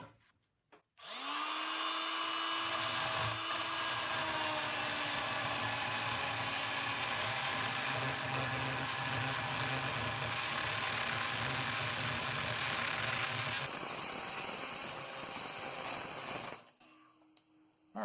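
A Harbor Freight oscillating tool cuts through the thin stainless steel casing of a Master Lock, a loud, steady buzzing grind with a high whine that holds for about thirteen seconds before easing off and stopping.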